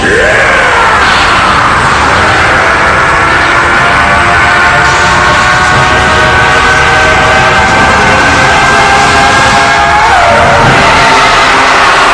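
An animated Goku screams at full force as he powers up, one long, loud, sustained yell lasting over ten seconds. A roaring, dense background effect runs beneath it the whole way.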